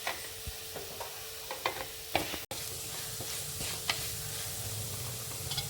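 Fish roast masala of stingray with garam masala and fennel powder is stirred in a pan, producing a steady sizzle broken by scraping ticks and clacks of a spoon, one sharp knock midway, and no speech.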